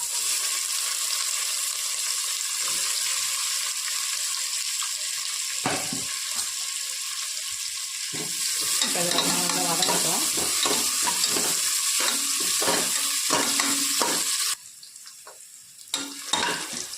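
Sliced large onions sautéing with cloves in a pan, a continuous close sizzle overlaid with a run of rapid, rhythmic scraping stirs in the middle before the frying quiets near the end, no talking.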